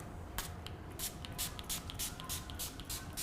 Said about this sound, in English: just give a good spray of the final seal all over